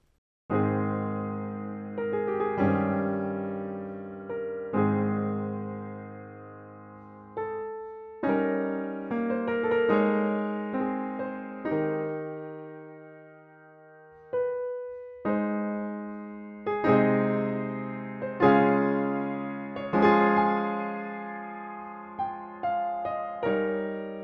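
Solo piano chords ring out in separate phrases, each note decaying between strikes, with inner voices as loud as the top line; no talking.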